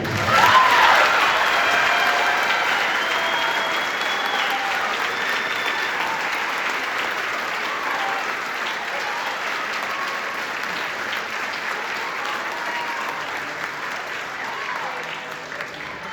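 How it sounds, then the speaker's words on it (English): A large audience claps steadily for a long stretch after a school wind ensemble performance, the applause loudest at the start and slowly tapering off. "Let's give it a round of applause."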